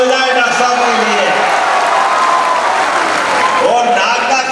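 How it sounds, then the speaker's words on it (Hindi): A crowd at a public speech by Chief Minister Mohan Yadav bursts into loud, sustained applause, with a voice carrying over the clapping. "जोरदार ताली हो जाए डॉक्टर साहब के लिए"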